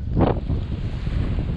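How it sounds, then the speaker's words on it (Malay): Strong wind buffets the microphone at sea aboard a small fishing boat, a steady close roar with one louder gust near the start and no voices. "angin juga ada kencang dan waktunya kita pulang ya rekan angler"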